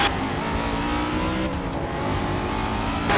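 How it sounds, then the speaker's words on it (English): A 1969 Dodge Charger Road/Track racing in a video game, its engine roaring loudly and continuously at high revs with a steady throaty drone and slight pitch shifts, no talking. "we are racing the 1969 Dodge Charger Road/Track"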